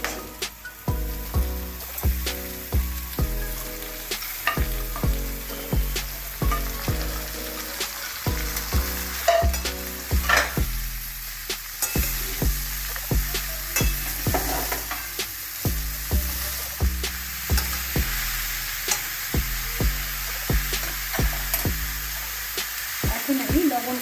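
Bottle gourd with shrimp, seasoned with turmeric and green chillies, sizzles steadily in a pan while a spatula stirs and scrapes it in a rhythmic series of close, repeated knocks.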